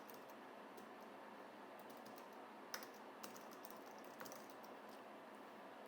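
Scattered keystrokes on a computer keyboard, a few sharper clicks standing out over a steady low background hiss, with no voices.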